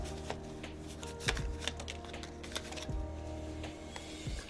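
Tarot cards shuffled by hand in a quiet room, a soft run of papery riffles and taps with a few sharper flicks, close and continuous.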